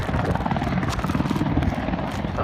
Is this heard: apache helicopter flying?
yes